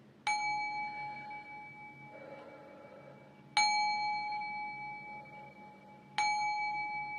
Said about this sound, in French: Petit coup de gong pour tout purifier.